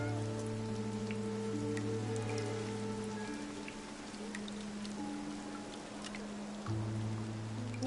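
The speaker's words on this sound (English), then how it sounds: "Nikki, it looks like it's going to rain." Steady rain patters in the Nikki video game, a soft continuous hiss of drops on a surface, with low sustained musical tones droning underneath throughout.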